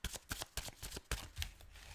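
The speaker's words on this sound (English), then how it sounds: "I almost don't have time to shuffle." A tarot card deck is shuffled close up, a quick series of crisp riffling slaps and flutters in an irregular rhythm, heard alone.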